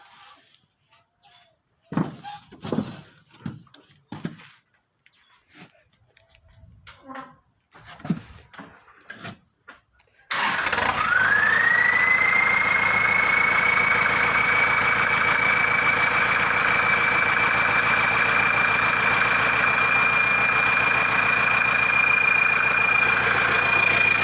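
Scattered quiet clicks and knocks, then a Kubota L5018 tractor's turbocharged engine suddenly roars to life and holds a steady, droning rev with a rising high turbo whine over it.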